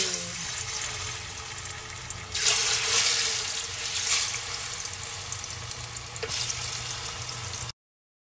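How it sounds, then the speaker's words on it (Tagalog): Steady, hissing sizzle of breadfruit slices frying in hot oil, with louder crackling swells partway through, continuous and close. "ang gagawin natin ay ipiprito natin siya"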